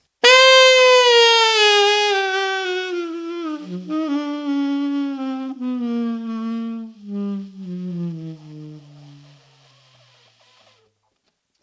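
A single reedy saxophone tone slides smoothly downward in pitch, a long chromatic fall that thins and fades out into breath.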